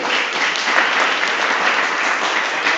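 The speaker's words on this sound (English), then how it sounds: "So big applause again for us and for you." Audience applause at a general assembly, a dense, even roar of many hands clapping that stays loud and unbroken throughout.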